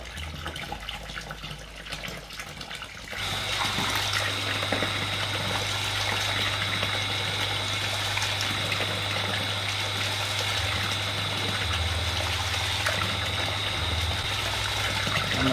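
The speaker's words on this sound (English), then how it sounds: "So I'm going to turn the pump on." Household water pump switches on about three seconds in, going from a quiet background to a steady motor hum with a constant whine and water flow, running continuously and close.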